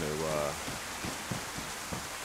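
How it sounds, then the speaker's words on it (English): Steady rain falls on a surface, a constant dense hiss with scattered drop impacts, fairly loud and even throughout, with a brief voice at the start. "Rain is very loud too."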